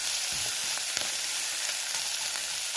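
Dried red chillies and curry leaves fry in hot oil for a tempering, giving a continuous even sizzle at moderate level, close by, with a couple of soft stirring clicks.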